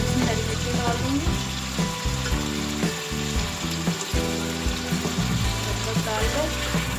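Chicken ginger karahi masala fries in a pan, its soft sizzle steady beneath repeated close scraping and clanking as the mixture is pressed and stirred, with faint background music.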